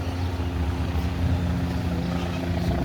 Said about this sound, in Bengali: এবার একটি হেলিকপ্টার ল্যান্ডিং দেখাই দেখুন